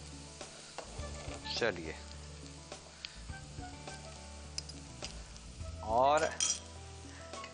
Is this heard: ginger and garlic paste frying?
yes